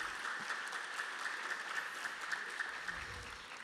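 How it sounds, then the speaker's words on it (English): A crowd claps steadily in sustained applause at a school spring concert, a dense wash of many hands with no voices over it. "we'll just give you a nice round of applause"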